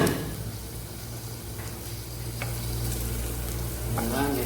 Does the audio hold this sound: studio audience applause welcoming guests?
no